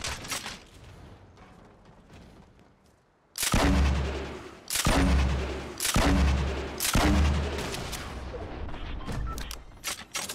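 A grenade launcher fires in Fortnite Battle Royale: after a quiet stretch, four loud, evenly spaced heavy thumps follow one another with mechanical reload clicks between them, then fade out.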